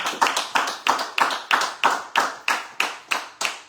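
A church congregation claps in a steady rhythm, about three sharp claps per second in an even beat that keeps going throughout, with no voices over it.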